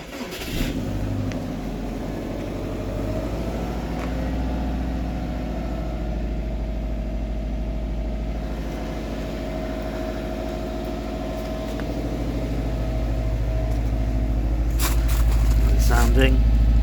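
Subaru Forester STI engine idling steadily after a cold start at -4°C through the original full exhaust with its original catalytic converter; a low, continuous rumble with the revs rising slightly near the end, close and loud, while a person talks over it.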